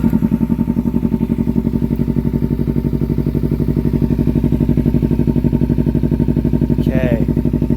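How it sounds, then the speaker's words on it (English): A Kawasaki Ninja 300 with an upgraded aftermarket exhaust idles close by, a loud, even, throbbing pulse that holds steady throughout, with a brief voice near the end. "Okay, so first I'll just let it idle."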